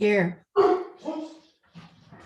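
A pet dog barks in the background at home during an online affordable housing committee meeting, a couple of short barks mixed with a person answering roll call nearby.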